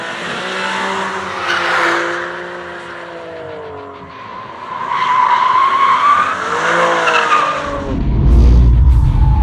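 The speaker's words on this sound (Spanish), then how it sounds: "Simplemente giramos, aceleramos y ya estamos de lado." Tires squeal and skid for several seconds as a BMW M2 CS with a twin-turbo six-cylinder slides sideways on a race circuit, the engine note rising and falling, ending in a loud rush close by.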